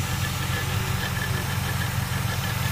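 A steady, low rumbling engine idles close by, a constant throbbing drone with no change in speed and no voices.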